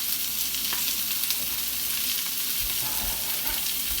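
Garlic sizzles in a very hot pan alongside a seared ribeye steak, a dense, close frying hiss that holds steady, with a few low thumps from the pan near the end and no talking.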